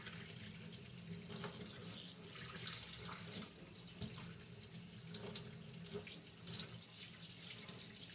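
A kitchen tap runs steadily while a cleaned garfish is rinsed under it, giving a continuous splashing stream with small shifts as the fish moves through the water and no talking.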